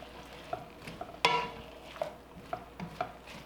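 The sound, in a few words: stirring noodles in a pan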